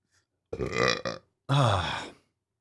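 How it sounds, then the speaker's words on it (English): A long, loud burp in two bursts, one deep throaty eructation followed by a second rumbling belch, each about half a second to a second long, with silence around them. "That was nice. That's a nice burp."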